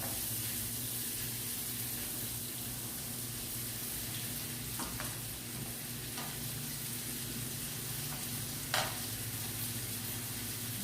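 Onions frying in a pan for a curry of vegetables and steak, a steady even sizzle that carries on throughout, broken by a few short stirring scrapes.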